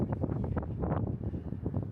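Wind buffeting a microphone on a natural lakeside beach at Lake Tekapo, New Zealand, a steady low rumbling roar with gusty pulses lasting throughout, no voices.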